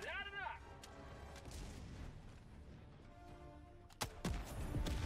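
Gunfire in the Helldivers 2 video game: a sharp shot cracks out amid steady game rumble and noise, followed by a second loud blast and continuing clatter near the end.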